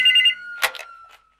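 A telephone bell rings in a short burst of trilling rings, loud and close, then breaks off into a few clicks and a fading tone.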